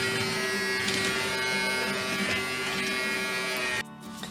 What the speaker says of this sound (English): And you can hear that, that's the suction of your little helper.